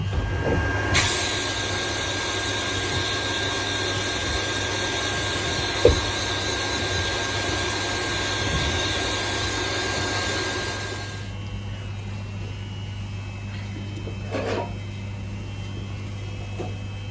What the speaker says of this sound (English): So with a bit of sandblasting, you can quickly get rid of most of the paint.